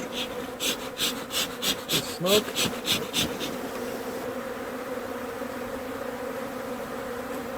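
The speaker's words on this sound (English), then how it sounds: "This is a lot of bees." A crowd of honey bees buzzes steadily and close during a hive inspection, with rhythmic rubbing or puffing bursts early on and a person briefly speaking.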